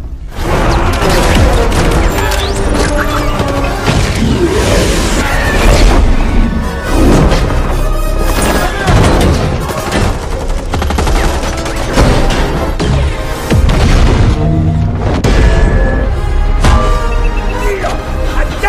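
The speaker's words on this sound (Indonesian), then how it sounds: "Sebelum akhirnya kembali terlibat adu tembak dengan para penjaga." A gunfight in a film fight scene between attackers and guards, loud and dense with rapid shots, crashes and impacts layered over a driving music score throughout, with a voice speaking at times.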